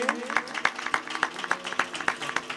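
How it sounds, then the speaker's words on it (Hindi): An audience claps for a singer at a Hindi devotional Manas music gathering, the steady rhythmic claps ringing out over faint tonal music at moderate distance. "जोरदार ताली बजाओ इन बहना के लिए"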